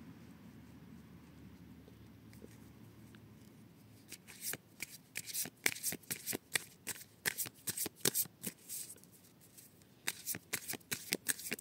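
A deck of oracle cards, roughly tarot-sized, is shuffled and cut by hand, starting with quiet handling and then moving into a run of crisp, rapid riffling bursts close by with no talking.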